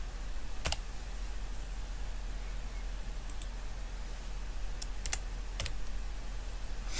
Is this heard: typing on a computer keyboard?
yes